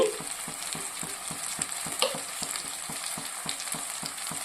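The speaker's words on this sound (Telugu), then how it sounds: "ఇవంతా ఇంకోసారి కలిపేసేయాలి" Chili powder, turmeric and salt are stirred into a sizzling tuna curry, with regular scraping strokes repeating roughly every quarter second over a steady close fry.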